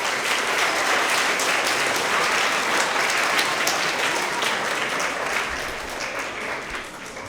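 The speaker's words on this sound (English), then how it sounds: "So let's give her a big round of applause." Audience applause at an elementary school end-of-year award assembly for third to fifth graders, welcoming the principal: dense, steady clapping from a large crowd that holds for several seconds and thins slightly at the end.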